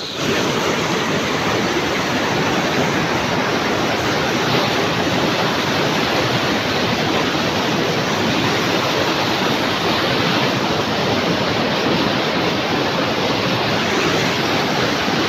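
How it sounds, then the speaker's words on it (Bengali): A rushing waterfall and strong hill river current, a loud, dense and unbroken roar of water heard up close and alone throughout. "এই ঝর্ণার জল, আর এদিকে হলো ভয়ঙ্কর ভয়ঙ্কর স্রোত।"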